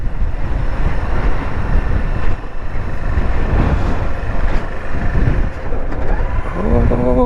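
Loud, steady wind buffeting the microphone on a Royal Enfield Himalayan or Honda CRF300L riding Utah backroads through tight curves, a constant roaring rush with engine rumble beneath and a rising tone near the end.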